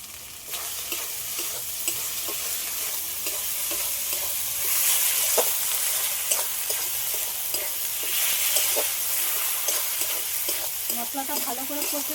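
Spice masala is stir-fried in a pan for a Bengali gile mete dish with pui shak, a steady close sizzle under repeated spoon scrapes and stirring clicks, lasting about twelve seconds, with no talking.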